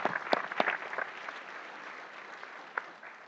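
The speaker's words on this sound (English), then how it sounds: "Give yourselves a round of applause for your tremendous hard work and advocacy." A scattered round of applause from an audience at a panel discussion on opposing jets, a few sharp claps up front fading into faint, sparse clapping in a quiet room.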